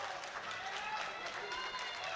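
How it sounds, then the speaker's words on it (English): A crowd at a women's sub-junior and junior classic powerlifting championship cheers and applauds, a steady wash of clapping and shouting throughout, with a voice speaking over it. "The crowd is going wild."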